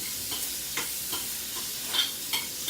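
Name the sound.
shrimp frying and being turned in a pan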